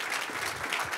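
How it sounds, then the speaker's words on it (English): Audience applause at a New York enterprise tech meetup, a steady dense patter of many hands clapping at once, fairly loud and continuous for the whole short burst with no voices over it. "Can I get a huge, tremendous round of applause?"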